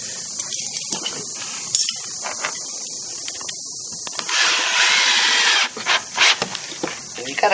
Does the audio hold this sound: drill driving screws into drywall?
yes